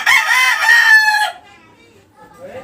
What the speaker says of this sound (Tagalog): Iisa pa yung manok na yan.